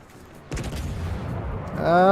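A battleship's main guns firing in World of Warships, one heavy boom that strikes suddenly and rumbles on, followed by a rising whine of shells or engine near the end.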